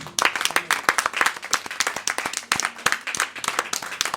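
Congregation in a church clapping rhythmically together, dense, close and sustained, with steady beats and scattered hand claps filling the whole stretch.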